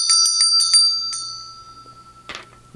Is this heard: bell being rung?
yes